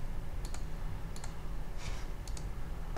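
Computer mouse clicks come in quick pairs and small bursts at a desk during software editing, crisp and close against a faint room hum, with no one speaking.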